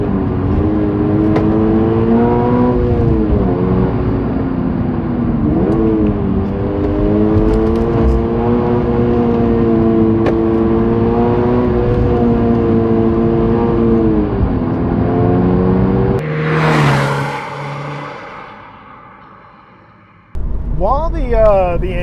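Toyota GR86 sports car engine revved out hard, a loud, strained, buzzy drone rising and wavering in pitch for a long stretch, then a sharp burst and fade before the revs pick up again.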